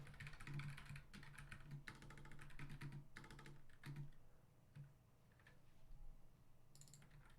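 Typing on a new computer keyboard, with bursts of close, crisp key clicks in uneven runs that pause and start again, fairly quiet with a faint steady hum underneath.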